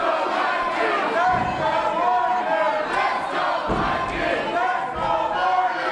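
A vocal crowd at a Championship Wrestling from Hollywood show at Commerce Casino cheers and shouts steadily throughout, loud and dense with no break.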